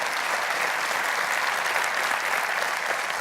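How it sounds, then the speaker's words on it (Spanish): Congregation clapping in a church service, a full and steady wash of applause from many hands that holds evenly throughout, with no voices on top. "un aplauso a Dios si se lo va a dar"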